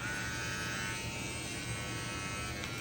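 Andis Envy 2 cordless hair clipper fitted with a gold ceramic blade, running steadily with a close, even electric buzz and hum throughout, no speech.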